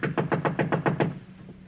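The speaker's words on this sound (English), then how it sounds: "Knock again." Knocking on a door in an old-time radio drama: eight quick, evenly spaced raps up close, followed by a short pause.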